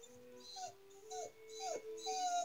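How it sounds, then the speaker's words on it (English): A dog whines indoors in a few high, wavering, drawn-out whimpers that rise and fall, fairly soft and close, with short pauses between them. "You can hear the dog whining."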